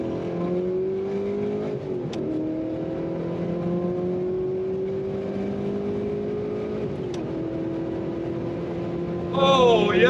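A 2006 Ford GT accelerating hard in second gear on the Autobahn, its engine droning steadily and rising in pitch through two brief shift dips, loud and close from inside the car.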